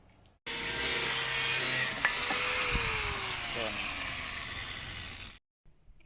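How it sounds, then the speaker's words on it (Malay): A hand saw cuts through the fork of a Litepro Crius Master D folding bike in a steady, close back-and-forth rasp that lasts about five seconds before stopping abruptly, with a faint tonal scrape running under it. "So kita akan potong fork nih dan pasang fork dulu."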